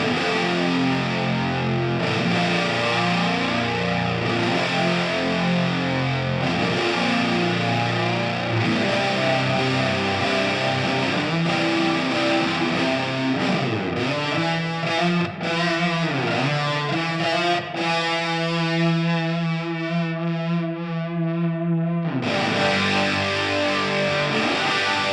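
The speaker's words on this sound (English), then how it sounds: "Our second preset is a big, fat, fuzzy rhythm tone" Thick, fuzzy electric guitar chords from a Fractal preset modelled on a Pi Fuzz are strummed in a heavy rhythm, sustained and loud, with a held ringing chord near the end before strumming resumes.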